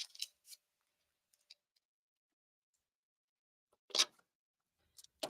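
Scissors cut a fabric strip for quilting in a quiet room, a few short, crisp snips scattered apart with silence between them.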